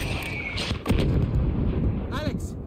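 Mortar fire in the Call of Duty: Modern Warfare video game, a heavy booming blast near the one-second mark followed by a rumbling battlefield wash and a whooshing shell sound, with voices faintly under the noise.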